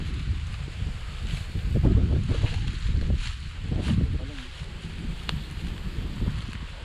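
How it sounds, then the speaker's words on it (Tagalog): Strong wind gusts buffet the microphone outdoors on the water during a fishing outing for snakehead and turtles, rumbling in uneven waves with a boat-like drone beneath. "Wow, kalakasan ng hangin."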